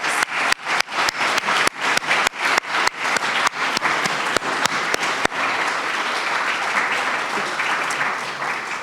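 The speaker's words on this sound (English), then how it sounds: "Let's give them a round of applause" Applause at a legislative gathering for the members of the Legislative Black Caucus: loud, rhythmic unison clapping in regular beats for several seconds, then dissolving into a steady, continuous wash of scattered crowd clapping.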